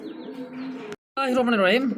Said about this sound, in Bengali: একজোড়া হোয়াইট কালার মধ্যে কবুতর দেখতে পাচ্ছি